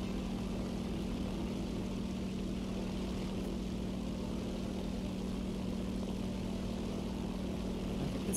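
A propeller aircraft engine drones inside a video game, a steady, unbroken buzzing hum that stays even throughout with no voices.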